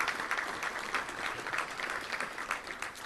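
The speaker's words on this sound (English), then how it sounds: "Let's give all of them a big round of applause" Audience applause at a Little Rock Touchdown Club luncheon, a steady, dense patter of many hands filling the room at moderate level without a break.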